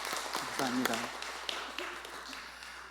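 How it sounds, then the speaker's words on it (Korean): Congregation applause for children who recited scripture and sang praise at a church service, moderate and continuous, with a voice speaking over the clapping. "우리 격려의 박수, 축복의 박수"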